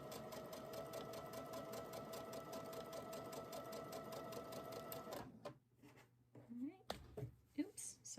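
A quilting sewing machine stitches with a fast steady mechanical whir for about five seconds, then stops, followed by a few soft clicks and handling sounds and a person talking.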